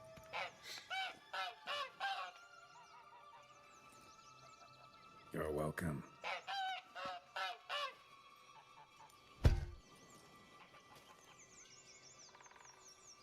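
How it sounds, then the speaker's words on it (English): A golden goose in a fantasy video game honks in quick repeated bursts, two clusters of loud nasal calls with a pause between them, followed by a sharp thud; a brief spoken line appears between the calls. "Golden goose."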